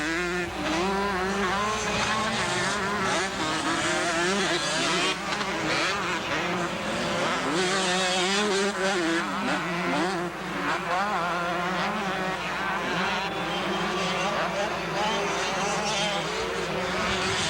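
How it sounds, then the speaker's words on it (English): Multiple 125 and 250 motocross motorcycles race at the 1987 Thunder Valley national near Denver, their engines making a continuous, loud, overlapping whine that rises and falls as the bikes accelerate and shift. "Guy Cooper is putting on a super ride here in Denver"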